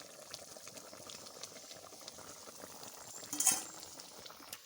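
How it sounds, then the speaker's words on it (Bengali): Pomfret fish curry boiling vigorously in a covered pot, giving a soft, steady bubbling and simmering hiss with one brief louder bubble burst near the end. "জোরে জোরে জাল তরকারিতে দেখো কীরকম করে ফুটে যাচ্ছে"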